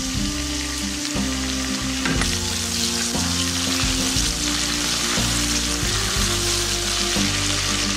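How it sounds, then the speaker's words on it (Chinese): Chopped scallions and ginger hit hot oil in a wok, giving a strong, steady sizzle and crackle that fills the clip, with a few stirring scrapes mixed in. "油热后放入葱花、姜末爆香"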